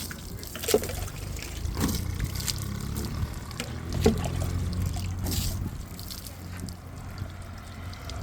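Water is poured and trickles over a vehicle to rinse off mud by the roadside, a steady wet splashing with a few louder splashes, fairly close and with no voices.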